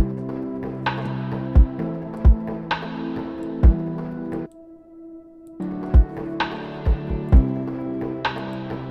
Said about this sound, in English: You put the mix all the way up and you give yourself a decent size and a really long decay.